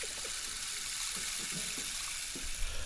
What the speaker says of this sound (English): Oh well, shower time.